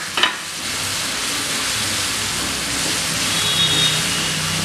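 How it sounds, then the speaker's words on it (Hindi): Cashews and tomato paste fry in ghee in a kadhai with a steady, close sizzling hiss, opening with a brief clatter as the paste goes in, then a continuous even crackle. "अब इसमें मैं टमाटर का पेस्ट डालूंगी और इसे भी थोड़ी देर भूनेंगे"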